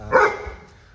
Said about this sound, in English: that's just my dog